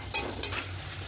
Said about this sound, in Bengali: কষিয়ে নিচ্ছি, দেখুন একদম শুকনো হয়ে এসেছে